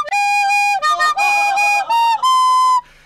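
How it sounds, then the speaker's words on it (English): A recorder plays a few shrill, wobbly notes with harsh overblown squeaks and uneven pitch, close and loud. "It is just a simple recorder."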